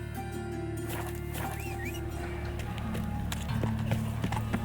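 Horse hooves gallop in a steady clip-clop rhythm in The Witcher 3, close and continuous, layered over sustained tonal game music and ambience.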